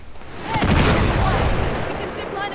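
RPG rocket explosions in the video game Uncharted 3, a loud booming blast that rolls out into a long rumbling tail, with voices faintly mixed in.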